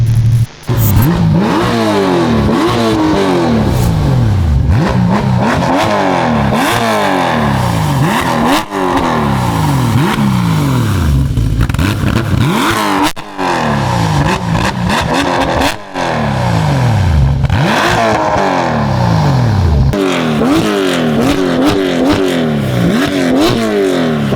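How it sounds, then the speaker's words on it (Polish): A Porsche 911 GT3 (992) engine revs hard again and again, rising and falling in loud repeated bursts with brief pauses between pulls. "będzie przedpremierowo można usłyszeć na żywo, jak chodzi Porsche."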